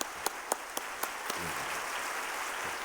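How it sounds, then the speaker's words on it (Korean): A church congregation at a Sunday daytime service applauds in encouragement, starting with a few separate claps that quickly swell into a steady, fairly faint wash of clapping. "우리 격려의 박수 한번"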